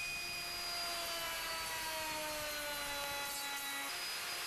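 Router on a WoodRat jig cutting a wood workpiece, a steady high whine with a coarse cutting rasp that shifts pitch slightly as the board slides through.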